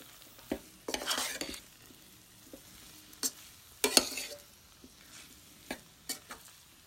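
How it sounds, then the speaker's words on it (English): Bean burrito filling frying in a pan while being slowly stirred, with soft continuous sizzling and scattered scrapes and clinks of a utensil against the pan, including a few louder bursts of stirring. "I'm going to stir it really slowly."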